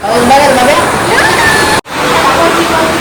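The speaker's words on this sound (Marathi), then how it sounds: "काय कसा पाऊस पडतो खतरनाक" Heavy first rain of the year pouring down outdoors, a steady loud wash of falling water with splashing that continues throughout, broken only by a brief silent gap, with voices faintly present.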